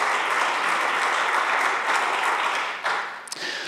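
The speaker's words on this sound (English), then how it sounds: "Let's give them another round of applause." Sustained audience applause for a church worship team, a dense steady wash of clapping that tapers slightly near the end with a few louder claps.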